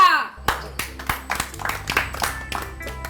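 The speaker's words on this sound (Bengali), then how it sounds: "হাতে তালি।" A short burst of hand clapping from a small group of people at an award announcement in an Eid drama, with uneven claps spread over about three seconds.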